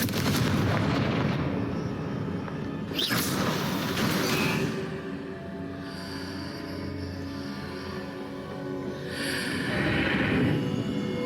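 Confringo fire spells blast in Hogwarts Legacy, with loud booming explosions and a crackling roar close at hand, each blast followed by a sharp whoosh and swelling rumbles, all against a steady backdrop of game noise.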